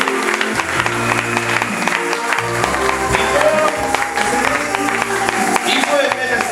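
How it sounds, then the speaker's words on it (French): A church congregation claps during a worship service, mixed with music and raised voices, the clapping blended into a loud busy crowd sound throughout. "Ouais, applaudissez pour le Seigneur."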